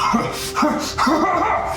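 A voice imitates a low growl, rising in short rough bursts that sound almost like barking, close and fairly loud with no other speech.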